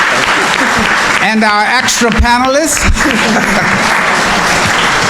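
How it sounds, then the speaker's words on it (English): A seniors' housing forum audience gives its panel sustained applause, a dense wash of clapping that lasts throughout while a voice speaks over it. "Let's give a round of applause to our panel"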